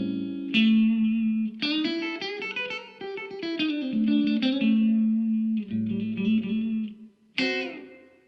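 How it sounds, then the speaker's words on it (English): Electric guitar through a Blackstar St. James 6L6 amp with a large-room stereo reverb set wide: distorted chords and single-note runs ring out, each phrase trailing a long ambient wash, with no talking. "if we want a huge reverb sound, we can change this to a large room and go wide"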